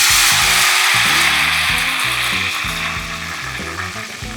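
Ghevar batter made from wheat flour frying in hot oil, a loud steady hissing sizzle that continues throughout and eases slightly toward the end, with faint clinks underneath.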